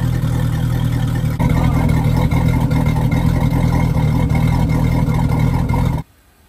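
A 1976 SeaRay boat engine runs roughly, a loud steady rumbling drone that cuts off abruptly near the end.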